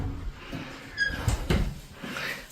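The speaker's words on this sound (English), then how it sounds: "squeaky door" Squeaky interior door opening in a house in Murcia, Spain, with a short high creak midway amid soft handling bumps and footsteps.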